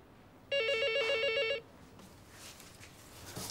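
A telephone bell rings in a single loud, steady electronic burst of about one second, then stops, leaving quiet room tone in a home where dumplings are being prepared.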